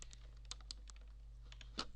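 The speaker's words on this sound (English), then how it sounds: "By clicking the control button" A few soft, sharp key clicks from a computer keyboard, including a press of the Control key during a Windows 3.1 setup in Oracle VirtualBox, spaced irregularly over a steady low hum.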